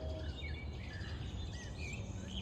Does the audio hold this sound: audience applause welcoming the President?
no